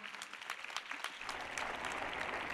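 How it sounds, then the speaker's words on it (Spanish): Audience applause breaks out at an awards ceremony, starting as scattered claps and swelling into steady, dense clapping from a large crowd by the end. "Pido un fuerte aplauso, por favor, para su equipo"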